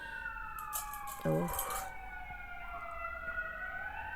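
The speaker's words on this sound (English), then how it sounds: "And now there's some ambulance in the background." An ambulance siren wails steadily in the background, its rising and falling tone drifting throughout, with a brief clink and a short spoken exclamation near the start.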